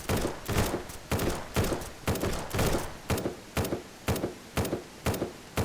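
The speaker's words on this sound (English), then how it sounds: "That's a turret." A video game turret fires a rapid, steady series of loud, sharp bursts in short clusters, repeating evenly for several seconds close up.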